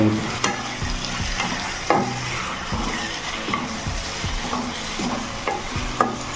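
Tomatoes sizzle and fry in a pan while a spoon stirs and mashes them with repeated scraping strokes, cooked for a village-style crab curry; the close, continuous frying hiss runs throughout with no talking.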